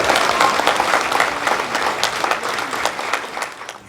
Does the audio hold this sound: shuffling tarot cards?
no